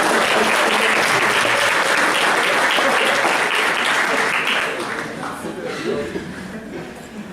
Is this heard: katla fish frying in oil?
no